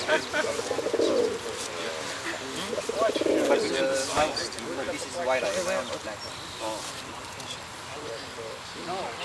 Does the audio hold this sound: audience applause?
no